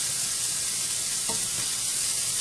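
Vegan burgers sear in a frying pan with a loud, dense, continuous hiss, steady throughout with only faint thumps of the pan underneath.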